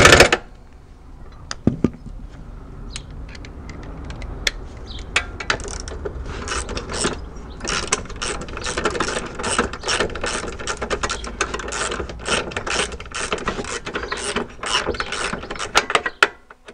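Nuts being tightened on the lower control arm of an Alfa 166, a long run of quick ratchet clicks with brief pauses, close and crisp, plus a few metallic clinks at the start and end.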